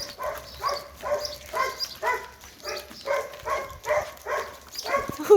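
A dog barks repeatedly in a steady rhythm, about twice per second, at moderate distance, with faint outdoor background noise.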